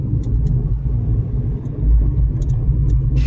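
A car drives through Pune toward the railway station, a steady low engine and road rumble heard from inside the cabin with faint ticking clicks and no speech.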